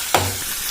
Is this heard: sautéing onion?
yes